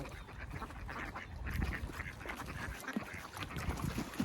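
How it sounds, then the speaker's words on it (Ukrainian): Gulls call with squawking cries out on the water, several birds at moderate distance, with no talking. "Чуєте, бачите, там чайки оце плавають."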